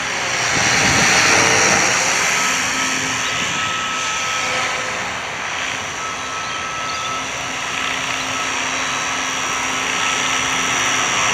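A steady, whirring rotor and motor drone of a Gaui 550 remote-controlled helicopter in flight holds continuously at close range, loud and unbroken, with a faint high whine layered on top.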